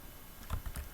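Keys clatter on a computer keyboard as code is typed, a short burst of several close, moderately loud keystrokes with no talking.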